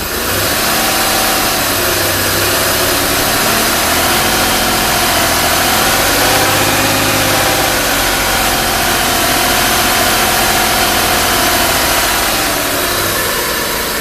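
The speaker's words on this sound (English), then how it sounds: "I'm going to go ahead and start it up now. And you can see, that's about right where it should be. We rev it up a little bit." A Chrysler Sebring engine runs steadily and loud, a dense mid-range idle that swells as it is revved a little around the middle, then settles back; no talking.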